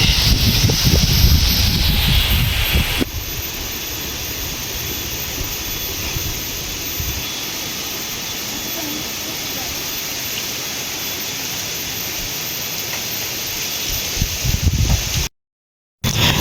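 Strong wind rushes outdoors among bamboo trees and rocks, a steady broad roar that is heaviest in the first few seconds, then settles into a constant hiss before a brief dropout near the end.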